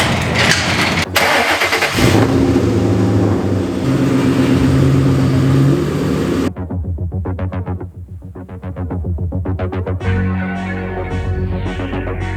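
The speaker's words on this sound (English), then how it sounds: "I'm gonna go ahead and pull the car into the front of the garage here" A Ford Mustang GT350 engine cranks and fires, then settles into a loud, throbbing idle as the car is driven into a garage, with the sound turning boomier and more enclosed toward the end.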